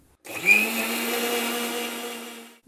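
A grinder machine powders granulated sugar into icing sugar, giving a steady, loud motor whir that starts abruptly, holds an even pitch for over two seconds, then cuts off.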